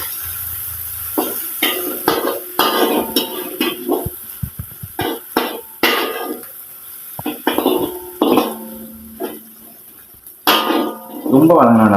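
Kaduvu kirai greens are stirred and sautéed in a pan with cumin, onion and green chilli, with repeated irregular metal clanks of the utensil against the pan over a faint sizzle, and a voice talking at times.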